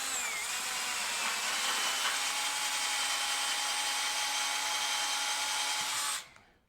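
A power drill grinds steadily against hardened spring hanger rivets on a rusty truck frame, a loud continuous whine with a faint steady tone that runs for about six seconds before cutting off abruptly.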